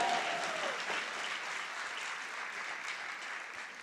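An audience in a hall applauding and cheering, a steady wash of clapping from many hands that fades slightly toward the end, with a brief whoop at the start.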